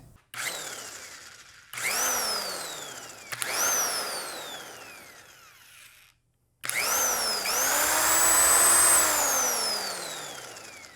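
A corded electric impact wrench runs in four bursts. Each burst starts with a loud motor whine that rises and falls in pitch, with short gaps of near silence between them.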